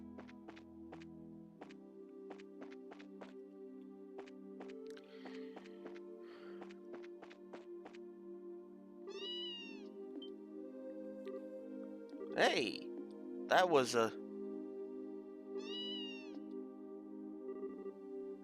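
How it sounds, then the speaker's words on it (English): A cat meows several times in the video game Trails in the Sky, short clear calls over a soft in-game background with footstep-like taps, and a voice speaks briefly. "This must be our cat."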